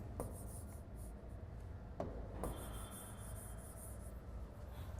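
Pen writing a line of mathematics equations for a hydrodynamics lecture, a continuous close scratchy rubbing over steady background hiss, with a few sharp taps between strokes and no talking.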